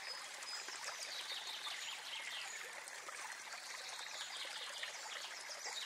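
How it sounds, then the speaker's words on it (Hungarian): A forest stream murmurs gently beneath a dense canopy on rocky hills, a soft continuous trickle with fine dripping and splashing of water over mossy rocks, quiet and even, with no voices. "Nagy vízcseppek hullanak a falevelekről a mohos sziklákra és a csendesen morajló patakok hullámaira."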